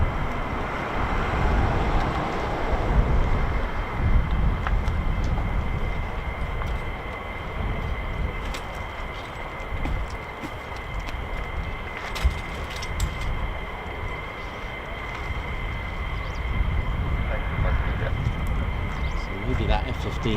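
Steady, distant roar of an F-35 fighter jet over RAF Lakenheath, home of the 48th Fighter Wing, holding fairly loud for about twenty seconds as people talk casually nearby.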